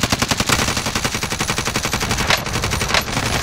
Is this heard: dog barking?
no